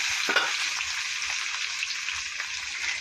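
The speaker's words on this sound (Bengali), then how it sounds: "এখন দিয়ে দেবো মশলা" Potatoes frying in oil in a home kitchen as ground spice paste of onion, ginger, garlic, cumin and chilli goes in, giving a steady, close sizzle with light stirring scrapes and no talk.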